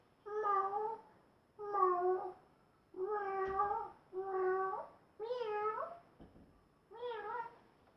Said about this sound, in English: Sound effect number 1, a cat.